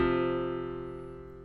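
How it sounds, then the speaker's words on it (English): Two steady sustained tones a fourth apart, set at a ratio of 2 to the 5/12 power, sound together as a smooth synthetic chord that fades gently over about a second and a half. "Also, the ratio of 2 to the 5/12th power sounds like this."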